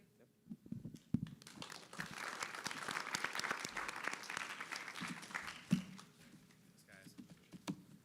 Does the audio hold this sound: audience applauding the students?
yes